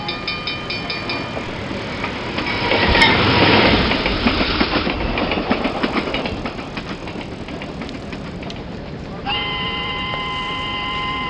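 A Rail Runner commuter train rumbles past beside a rail trail, its loud steady roar and rhythmic wheel clatter swelling then settling, with a brief high squeal near the end.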